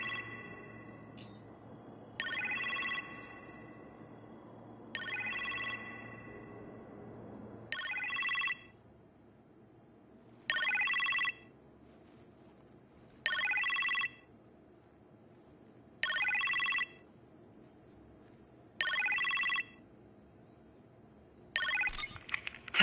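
A telephone rings in a kitchen in the Iron Man VR video game, a series of short electronic ring bursts repeating at a steady rhythm, fairly quiet, over a low ambient hum.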